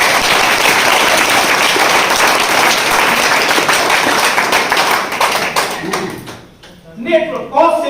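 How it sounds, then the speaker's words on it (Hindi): An audience at a motivational meeting gives the speaker loud sustained applause, many hands clapping densely for about six seconds before it fades out and a voice starts talking. "एक बार सर के लिए जबरदस्त ताली हो जाए"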